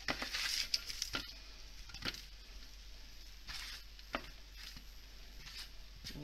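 Potatoes and Brussels sprouts frying in a pan, a soft, constant sizzle with occasional light clicks and taps from turning them over, fairly quiet throughout.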